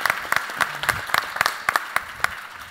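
An audience at a women's human rights summit gives a short round of applause, moderately loud and fairly sparse, with distinct separate claps standing out.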